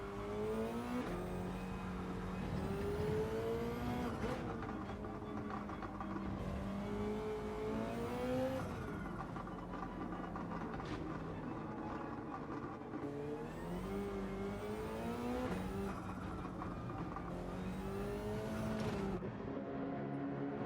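Race car engine in Gran Turismo 7 drones and whines continuously, pitch climbing through repeated gear shifts and dropping off between them, steady and loud with no voices.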